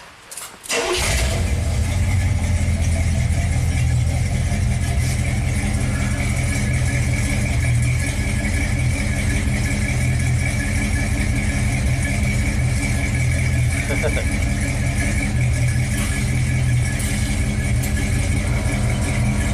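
A 1939 custom Ford's engine catches after a short cranking burst and then runs steadily and loudly close by, a constant drone with a faint tone rising as the AC compressor engages.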